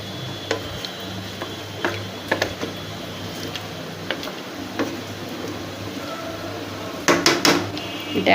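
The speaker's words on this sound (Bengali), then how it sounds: "ঢাকনা দিয়ে এখন ঢেকে দিব।" Metal clatter of a lid set onto a cooking pot of simmering vegetable khichuri, a few sharp clinks and knocks near the end after scattered light ticks of utensils, with no voices.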